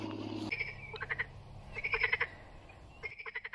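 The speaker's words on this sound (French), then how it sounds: "Il y a les grenouilles qui sont en train de faire les malines dans l'eau là." Frogs croak in the water near a horse-riding area, short pulsed calls in several bursts, fairly close, with no talking over them.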